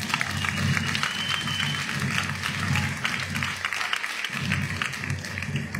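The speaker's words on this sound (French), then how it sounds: "Ne m'applaudissez pas trop" A festival debate audience on ecology and capitalism applauds a speaker, steady dense clapping that holds at a constant moderate level for several seconds.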